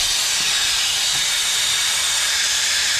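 Compressed air blasts through a car sunroof drain hose in a steady, loud, close hiss that stays constant for the whole stretch, with no voices.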